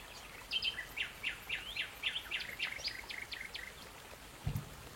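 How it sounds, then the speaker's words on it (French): Songbirds trill and chirp in a sparse forest beside a calm, clear river, a run of quick repeated bright phrases at moderate distance over a steady soft wash of background noise, with a brief low thump near the end. "Vous êtes entouré d'une forêt clairsemée d'où proviennent le doux chant des oiseaux et de la nature."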